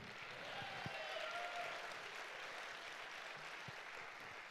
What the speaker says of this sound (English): Can y'all also clap again for these lovely musicians?